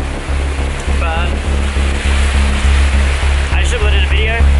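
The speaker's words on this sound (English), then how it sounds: "It's really windy here today." Strong wind buffets the microphone in heavy, rumbling gusts, with a voice speaking briefly underneath.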